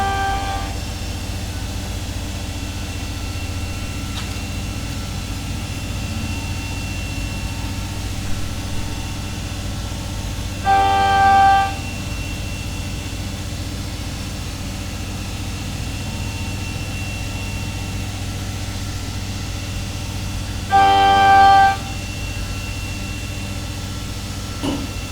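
A CNC machine bores Twin Cam engine cases for a 124 cubic inch build, giving a steady, even drone with two short tonal squeals about ten seconds apart and no talk.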